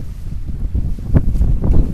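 Steady blustery wind on Mount Rainier at Pebble Creek, around 7,200 to 7,500 feet, roars across the microphone, low and rumbling, with a few stronger gusts buffeting near the end.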